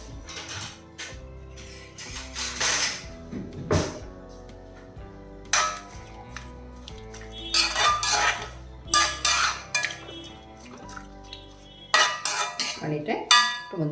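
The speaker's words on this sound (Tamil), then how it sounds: "இப்போ கொஞ்சமாக சால்ட்டு சேர்த்துட்டு எல்லாத்தையுமா மிக்ஸ் பண்ணி விட்டுக்கலாம்" Metal utensil scraping and clanking against a pot while raw jackfruit avial is mixed with salt, irregular loud clatters and scrapes close by, with no talking.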